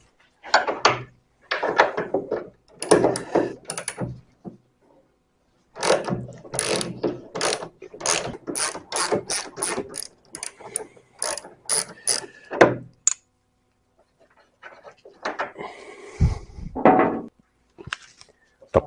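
Ratchet clicking in repeated bursts as 3/4 AF bolts are undone on the bulkhead of a Series Land Rover, close and fairly loud, with short pauses between runs of rapid pawl clicks.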